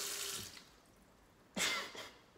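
A household faucet in a Dallas apartment turns on, letting out a short, close gush of running water that starts abruptly after a faint earlier trickle.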